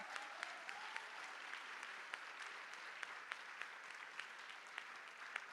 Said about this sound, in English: A big round of applause to Sheba ma'am for the choir.